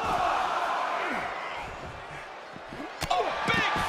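A virtual arena crowd in the WWE 2K23 wrestling game roars and jeers in a steady wash of cheering noise, with a few sharper thuds and swells near the end.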